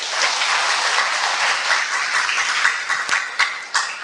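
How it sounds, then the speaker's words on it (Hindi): Steady applause fills a meditation camp hall, loud and continuous for several seconds, with a few sharper individual claps standing out near the end. "तालियां बजाएं।"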